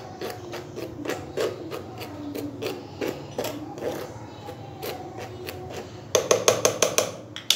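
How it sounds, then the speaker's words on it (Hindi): Dry ingredients for an eggless chocolate cake sifted through a metal sieve, with rhythmic tapping and rasping strokes close by, speeding up into a quicker burst of sharp taps near the end. "तो पहले हम इन आइटम को छान लेते हैं"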